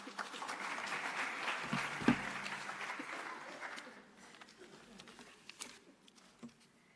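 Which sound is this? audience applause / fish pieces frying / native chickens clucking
audience applause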